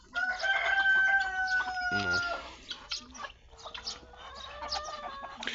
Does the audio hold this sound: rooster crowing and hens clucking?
yes